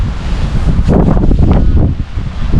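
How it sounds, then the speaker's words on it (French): Cold north wind blowing at a carp fishing spot, buffeting a microphone with loud continuous rumbling gusts and roaring surges over the short stretch, no voices. "Le vent du nord là, qui me souffle devant dans le nez, il est vraiment pas chaud"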